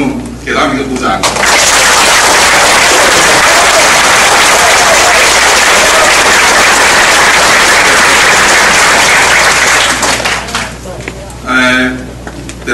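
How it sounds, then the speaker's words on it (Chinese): Loud, sustained applause from a church congregation at a pastor's installation service at Yongfu Presbyterian Church in Changhua. It swells to a steady roar for about nine seconds, then fades as a voice speaks at either end. "我们能够给他们一个鼓掌"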